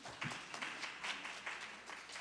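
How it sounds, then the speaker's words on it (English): Faint applause from a church congregation, a few seconds of scattered, steady clapping heard from a distance. "You guys can clap for them."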